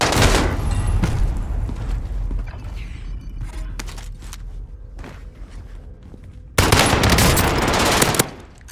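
Automatic rifle fire in Call of Duty: Warzone on Rebirth Island, loud sustained bursts at the start and again near the end, with scattered single shots, clanks and footsteps in between.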